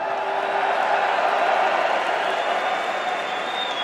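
Crowd applause and cheering for the NHL commissioner at a Montreal hockey draft event, a steady dense roar of clapping that holds throughout with scattered whoops.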